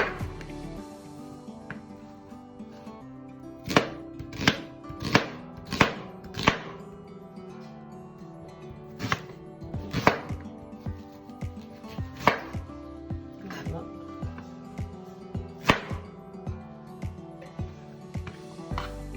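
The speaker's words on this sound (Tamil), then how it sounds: "இதே தான் ஒரு 4 அரிஞ்சுப்போங்க" A knife chops chicken into small pieces for chili chicken on a cutting board, a steady run of sharp, close thuds, some clustered in quick flurries and others spaced apart, with no talking over them.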